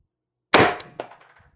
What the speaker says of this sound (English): Okay, mag 3, shot 1.